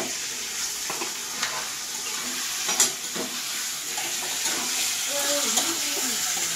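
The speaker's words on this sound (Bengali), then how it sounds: "এই যে খুব ভালোভাবে আমি ভাজবো, লাল লাল করে নিয়ে" Chicken frying in a pan with onion and tomato for a home curry, a steady close sizzle with stirring scrapes and clinks, while a voice talks over it.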